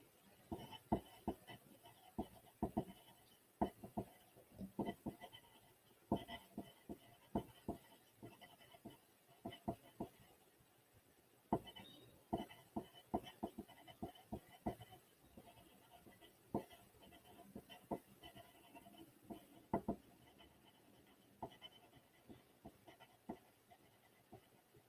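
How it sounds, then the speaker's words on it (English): A pen writes on paper in a quiet room, with faint, irregular scratching strokes and soft taps going on steadily, close to the microphone and with no talking. "Let's go ahead and write."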